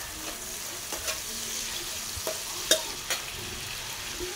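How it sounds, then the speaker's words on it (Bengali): Pieces of pointed gourd fry with a pinch of salt in a pan, giving a steady low sizzle with occasional clinks and scrapes of a stirring utensil, close and quiet with no talking. "এবার সবগুলোকে ভালো করে একটু ভাজতে দেব।"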